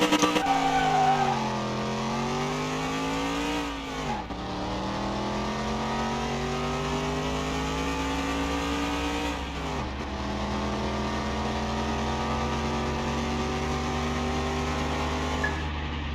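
A car engine from Car Mechanic Simulator 2021, likely an inline-four turbo, revs up and down in long sustained sweeps, dropping sharply twice before climbing again, loud and steady throughout with no talk.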